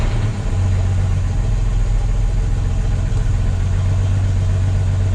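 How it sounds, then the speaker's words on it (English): Jaguar S-Type engine running steadily at idle with a low, even hum and strong low harmonics, loud and close, with no clear rise in revs and no voices. "So let me just give it a few revs."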